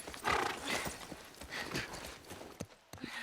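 Horse hooves clip-clopping with a neigh in The Last of Us Remastered, steady hoofbeats over game ambience, with a brief quiet gap near the end.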